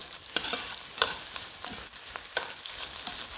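Shrimp scampi sizzling and frying steadily in a pan, with a constant crackling hiss broken by a few louder stirring scrapes; no voices.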